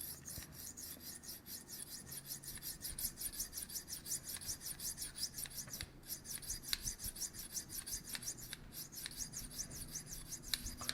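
A knife blade sharpened freehand on a stone, with firm pressure along the back portion of the edge, makes a steady, close rhythmic rasping scrape that repeats stroke after stroke throughout.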